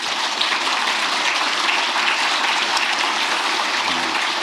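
Applause from an audience of senior public officials at a presidential lecture workshop: a dense, steady wash of clapping that fills the whole stretch at an even level without a break.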